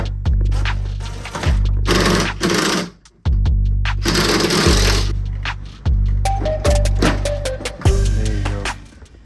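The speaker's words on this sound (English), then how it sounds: "Now we're gonna take off this fender screws, the mudguard screws from the back." Rear fender and mudguard screws are backed out of an Audi RS3 with the front wheels off, in a series of loud, close whirring motor bursts, each a couple of seconds long, separated by short pauses.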